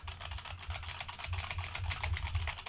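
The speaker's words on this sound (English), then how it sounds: "Let's see if it picks up the keys on my mechanical keyboard." Steady, continuous typing on a mechanical computer keyboard, fairly close and clear, with a dense run of clicky keystrokes and no talking.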